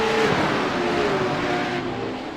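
A Porsche Cup race car accelerates hard around the Long Beach street circuit, its engine a loud, sustained roar with rising pitch, steady and close throughout.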